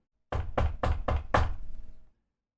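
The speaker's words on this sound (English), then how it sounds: "A moment later, there's a knock on the door." Five evenly spaced, solid knocks on a bedroom door, each a firm thud with a short decay, then silence.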